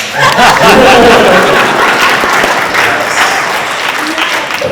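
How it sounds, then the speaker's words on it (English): An audience at a poster museum's artist panel claps loudly and continuously, with a few scattered chuckles mixed into the dense applause throughout. "People usually clap."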